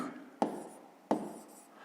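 Pen on paper writing math figures: two short, sharp scratchy strokes spaced about a second apart, each trailing into soft rubbing, close and fairly quiet.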